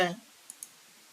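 A computer mouse clicks twice in quick succession on a login button on the UDISE Plus school data website. The clicks are soft and close, and they come just after a brief fragment of speech.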